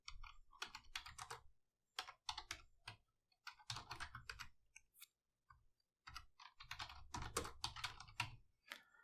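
Quick bursts of typing on a computer keyboard as a Cisco IOS command is entered, close and clear, with rapid clatters separated by short pauses.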